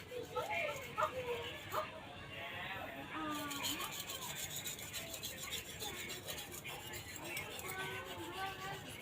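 A golok machete blade is sharpened by hand with quiet, steady rasping strokes, faint and low in level, while someone talks over the scraping.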